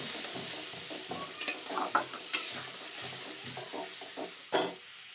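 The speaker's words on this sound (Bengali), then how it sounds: "আমি টমেটোটা ভালো করে কষিয়ে নিচ্ছি।" Tomato paste frying in a pan while being stirred, with a soft sizzle under a series of scraping and knocking spoon strokes at irregular intervals, heard close and fairly quiet, with no talk.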